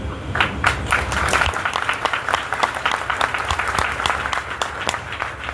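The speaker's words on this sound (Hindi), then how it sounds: "देखिए, ताली बजानी है ना तो ताली बजाइए," A seminar audience claps together in a dense, steady burst of applause that carries on for several seconds, loud and close, with faint voices mixed in.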